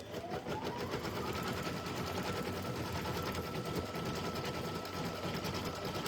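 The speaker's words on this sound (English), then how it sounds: "Nine minutes of watching it stitch the nose." An embroidery-style sewing machine steadily stitching a stuffed toy's nose at 400 speed, a constant fast mechanical whir with rapid needle pulses and a faint rising whine, close and unbroken with no talking.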